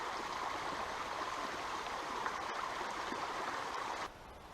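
A large forest stream crossing in George Washington National Forest rushes and gurgles steadily. The water noise stays constant, then drops to a quieter level near the end.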